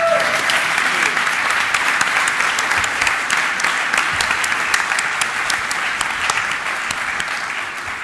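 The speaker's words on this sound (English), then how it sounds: "So I would like to ask you to also give an applause" A large conference crowd at a closing plenary session claps continuously, a loud, steady wash of many hands that holds its strength throughout before easing slightly at the close.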